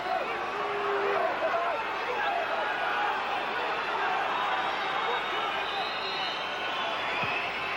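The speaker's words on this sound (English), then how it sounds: "The crowd are trying to inspire this Manchester United defence now." A football stadium crowd at a Champions League match between Manchester United and Fenerbahçe keeps up a dense, continuous roar and chanting that stays steady and loud from start to finish.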